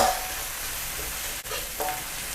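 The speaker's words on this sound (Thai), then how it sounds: "ผัดพริกกระเทียม" Chili and garlic stir-fry in a wok over medium-low heat, a continuous close sizzle with soft stirring scrapes throughout and no talking.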